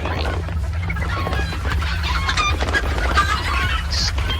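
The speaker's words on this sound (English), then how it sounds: "Need to really get away from these darn chickens. It's so dang loud." A flock of chickens in the video game Hunt: Showdown clucks loudly and continuously, with busy, scattered calls over a steady low in-game background drone.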